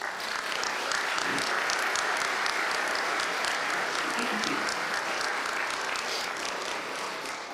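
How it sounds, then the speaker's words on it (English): Sustained applause from a large crowd at a University of Galway conferring ceremony, steady and dense throughout, with a faint murmur of voices mixed in. "I want you to give them a warm round of applause"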